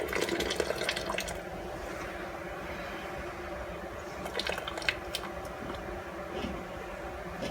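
Water sloshes and gurgles as it is tipped out of a hot glass canning jar while making pizza sauce, a steady close splashing with a few louder drips and spatters.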